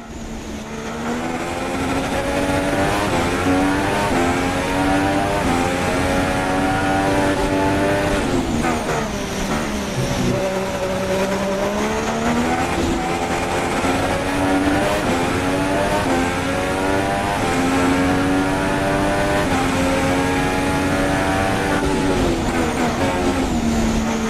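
Formula 1 racing cars in the video game F1 2016, a loud, continuous high-revving engine whine rising and falling through gear changes for the whole stretch, with no talking.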